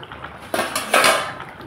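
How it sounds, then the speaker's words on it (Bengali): A cooking pot lid is lifted off a simmering fish curry, giving two short metallic clanks with a rattling scrape between them, close by and fairly loud, with no talk. "ঢাকনা খুলে দিলাম"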